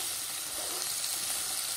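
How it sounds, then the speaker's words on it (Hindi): Onion and vegetables fry in a pan for a paneer mushroom salad, a dense, even sizzle that holds steady for a moment close by, with no talking. "अब हम इसमें डालेंगे प्याज और इसको भी हमें इसी तरह से भून लेना है"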